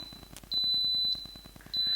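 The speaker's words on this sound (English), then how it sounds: "It beeps like that to tell you that that's the end" An Instant Pot electric pressure cooker signals the end of cooking with two long, high, steady electronic beeps, clear and close, over a faint ticking background.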